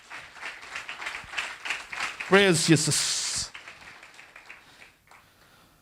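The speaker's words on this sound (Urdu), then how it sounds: "خدا کے جلال کے لیے زوردار تالیاں بجائیں گے" A church congregation breaks into loud applause and cheering partway through, the clapping swelling for about a second before fading, with a preacher's voice and sung exclamation over it.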